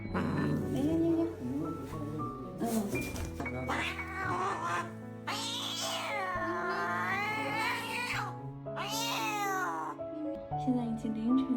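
A cat with slightly swollen ears, about a year old, meows in long, loud, drawn-out and somewhat caterwauling cries close by, with a person's voice calling to it in between.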